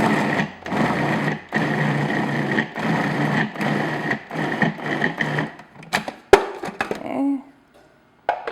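A food processor whirs loudly in repeated bursts as it blends cream cheese until smooth, with brief gaps between pulses, then winds down into a few clunks and rattles near the end.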